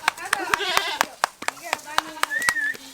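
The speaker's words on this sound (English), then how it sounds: "Clap your hands real loud." A group of people clap their hands in sharp, quick, irregular strikes, mixed with talking voices and a brief animal-like bleat.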